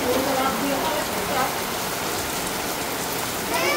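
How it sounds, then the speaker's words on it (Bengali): Steady heavy rain falling outside a house, a dense continuous hiss and patter close to the microphone throughout, with no talking. "এদিক দিয়ে দেখুন বৃষ্টি শুরু হয়েছে।"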